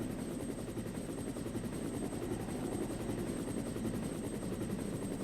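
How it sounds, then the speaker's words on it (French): A video game helicopter's rotor thumps in a fast, steady chop with a constant engine whine, held at a moderate distance and fairly quiet, in Resident Evil Director's Cut. "On attend. Bien gentiment, que l'hélicoptère arrive."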